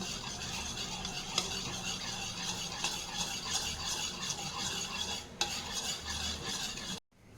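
Mutton biryani mixture stirred with kewra water and sweet attar, a steady scraping and rattling of a spoon against the pot, close and continuous, with a brief drop to silence at the very end.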